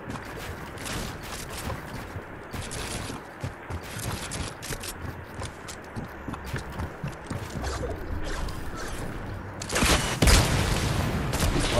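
Gunfire in the video game Fortnite, bursts of rapid shots and impacts repeating through a busy, moderately quiet game mix, with a louder flurry of shots near the end.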